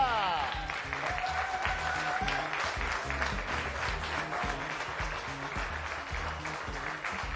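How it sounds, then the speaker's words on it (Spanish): Lively studio audience applause welcoming two guests onto a talk show, steady clapping under rhythmic music with a host's voice briefly over it at the start. "fuerte el aplauso para recibirlos a ellos"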